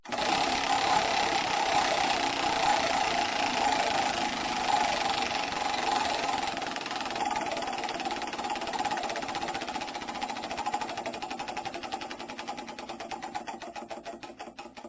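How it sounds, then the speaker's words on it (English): A prize wheel spins with a fast, steady run of clicks against its pointer, loud and close, the ticking holding an even pace and turning more sharply defined toward the end. "let's go ahead and spin the wheel"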